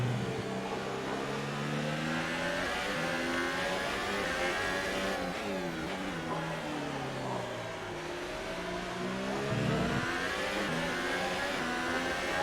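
An F1 race car engine in a racing video game at Interlagos screams and revs continuously, its pitch climbing and dropping through repeated gear shifts, loud and steady throughout.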